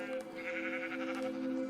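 Minecraft sheep on a small farm bleat in a steady, nasal, wavering cry that runs through the whole moment at an even, moderate level.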